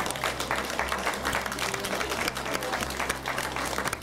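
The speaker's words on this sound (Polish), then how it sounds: "Gromkie brawa może dla pani dyrektor" Steady applause from an audience at a children's kindergarten nativity play, many hands clapping continuously for the kindergarten director and organizers, with a low hum underneath throughout.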